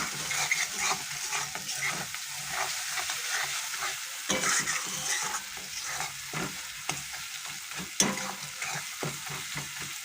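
Spice paste for egg curry fries in oil while being stirred, a loud steady close sizzle broken by frequent rhythmic scraping strokes of a spoon against the pan.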